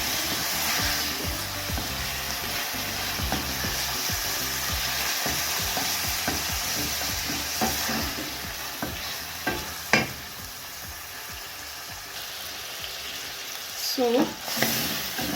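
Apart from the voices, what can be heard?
stirring and frying goat tripes (matumbo) in a pan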